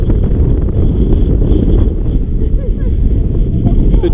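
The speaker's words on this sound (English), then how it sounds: "But very atmospheric, very windy." Strong wind buffets and roars across open moorland in Nithsdale in March, a constant heavy rumble battering close by.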